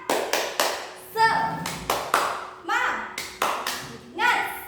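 A class of children performs a rhythmic spirit clap, sharp grouped hand claps in a patterned beat alternating with children chanting together, close and lively in a classroom.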